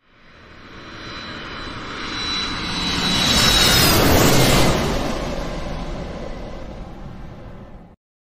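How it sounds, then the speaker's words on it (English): An airplane engine roars past in a single loud flyover, rising from a distance to a peak midway and fading before cutting off abruptly, with a faint jet whine on top. "Plane."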